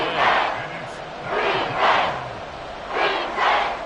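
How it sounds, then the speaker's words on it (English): A video game football stadium crowd in Madden cheers and roars in rising and falling swells, three broad surges of loud rhythmic chanting and shouting, with a faint commentator's voice beneath. "This is 3rd and 7 with a crowd on their feet."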